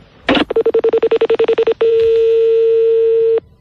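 Telephone dialing heard up close as a loud rapid run of short pulsed tones, followed by a long steady tone that lasts over a second before stopping abruptly.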